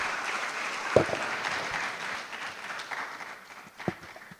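Applause from an audience at a public forum on the cost of repair, a steady mass of clapping at moderate distance that gradually fades, with a couple of louder individual claps standing out.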